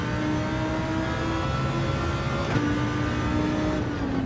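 Race car engine in a racing video game played on PSVR2, held at high revs in first gear, giving a steady, loud, buzzing whine for several seconds with no talking.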